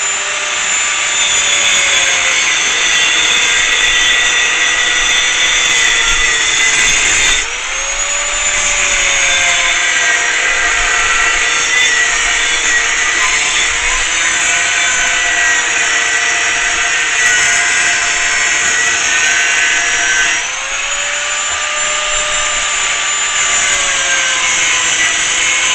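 A trigger grinder runs loud and steady against a steel stock rim being shaped into a mower hub, a continuous high whine that dips briefly in pitch twice as the load changes.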